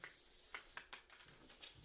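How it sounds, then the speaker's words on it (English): Several short bursts of hissing spray from an aerosol can of spray adhesive, quiet and close, with brief pauses between them. "I'm going to use like some spray adhesive. And just spray it on here."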